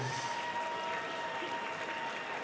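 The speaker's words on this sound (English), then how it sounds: "can we please have a big round of applause for both of our fighters?" A crowd applauds both fighters after a three-round MMA bout at a Vida Fighting Championships event. Steady, moderately loud clapping with light crowd noise fills the whole short stretch.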